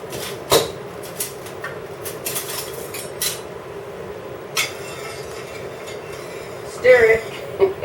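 Salted spaghetti stirred in a pot, scattered metallic clinks and knocks of utensil against pan over a steady background, with a clustered rattle near the end; people talk in between.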